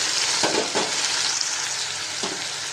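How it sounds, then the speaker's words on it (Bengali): Steady, loud sizzle of marinated prawns frying in hot oil, with a few soft clinks of stirring. "এবার আমি ম্যারিনেট করা চিংড়ি মাছগুলো দিয়ে দিলাম"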